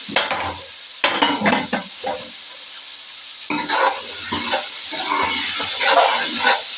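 Cabbage with potato, tomato, onions and green chilies stirred in a frying pan, heard as bursts of scraping and clattering strokes over a constant bright sizzle, close and loud, with no talk.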